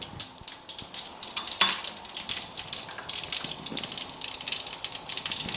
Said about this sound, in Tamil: இப்போ பாருங்க, சூடாயிருச்சு. அதுல கடுகு நான் போட்டுக்கிறேன்.